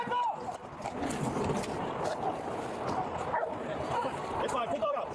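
A police dog barks and yelps during a bodycam-recorded entry through a broken window, with loud, close, busy barking that runs throughout, mixed with shouting voices and scuffling.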